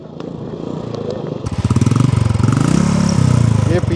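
A motorcycle on an off-road mountain trail starts up, with quiet clatter first, then the engine catching and running in a loud, close, steady chugging putter.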